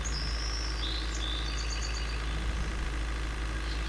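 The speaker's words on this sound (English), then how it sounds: "You can hear the birds chiming" Birds chirp and whistle in short bright calls over a steady low engine-like drone from a bus in a video game, fairly faint against the constant hum.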